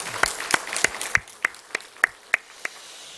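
A church congregation at a Sunday worship service gives sparse applause: about ten distinct claps in a slow, fairly even rhythm, close and clear.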